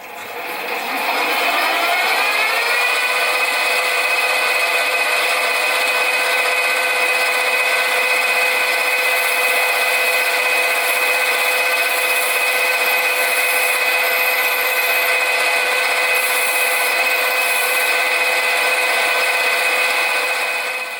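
A steady, loud machine whine rises at the start and then holds a continuous high-pitched ringing tone as a lathe parting tool cuts metal.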